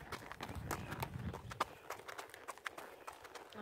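Hooves of a ridden horse clip-clopping on a trail near Lake Scott, Kansas, in a quick irregular rhythm of sharp close knocks over faint outdoor ambience.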